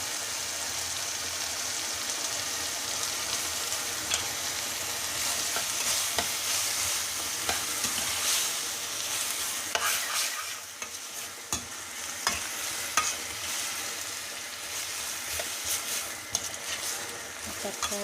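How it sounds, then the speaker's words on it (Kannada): Upma cooking in a pan as washed vegetables are added and stirred: a continuous bright sizzle with scraping stir strokes, fairly close, while a voice speaks intermittently over it. "ನೋಡಿ ಉಪ್ಪಿಟ್ಟು ತರಕಾರಿ ಹಾಕ್ತಾಯಿದ್ದೀನಿ"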